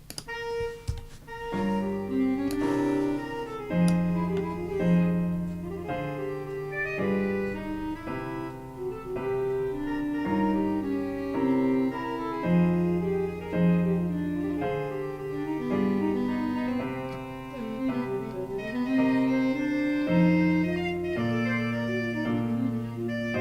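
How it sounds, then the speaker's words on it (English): An alto saxophone counter line weaves over a full ensemble, with steady rhythmic chords and a walking bass underneath, continuous and moderately loud throughout. "the counter line, which is the alto sax line"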